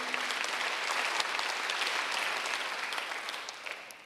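A church congregation claps together during a Sunday worship sermon, a dense, steady wash of applause that carries on without a break and fades slightly toward the end.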